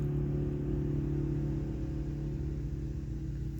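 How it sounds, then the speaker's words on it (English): Steady low engine rumble of a loud truck running outside, a constant drone that fills the whole stretch with no talking over it. "there's a loud truck out there"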